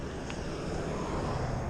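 A fixed-wing airplane passes somewhere in the distance during an outdoor bike ride, a steady broadband engine drone blending with wind and road noise throughout, with no talking.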